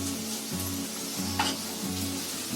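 Green chilli, ginger and white sesame seeds sizzle in hot oil, a soft continuous crackle with small pops and a faint stirring scrape, steady and fairly quiet throughout.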